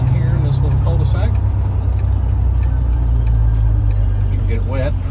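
A four-door 2000 Jeep Wrangler Sahara with low mileage cruises along a quiet residential street, its steady engine drone and road rumble running loud and continuous throughout, with faint voices in the cabin.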